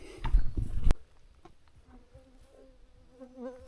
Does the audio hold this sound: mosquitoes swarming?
yes